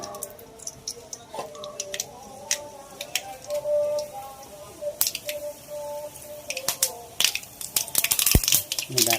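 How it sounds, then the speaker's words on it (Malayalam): Mustard seeds crackle and pop in hot coconut oil in a pan, a scatter of sharp ticks and sputters that grows denser toward the end, with a voice talking over it. "നമുക്ക് കടുക് താളിക്കാൻ അല്പം വെളിച്ചെണ്ണ അതിലേക്ക് ഒഴിച്ചു കൊടുത്തു ഇത്രയും മതി നല്ലപോലെ ചൂടായി വരട്ടെ ആ കുറച്ച് കടുക്"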